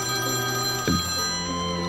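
A mobile phone rings with a steady electronic tone, close and clear, with a brief knock partway through and no talking.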